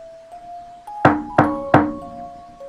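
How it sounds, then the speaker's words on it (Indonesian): Three sharp knocks on a door, evenly spaced and close, sound within a narrated story, set against a faint sustained background tone with no talking. "Ada suara ketukan."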